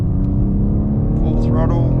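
A 2023 BMW X4 M Competition SUV engine pulls hard in third gear, a steady loud drone with rising harmonics heard from inside the cabin.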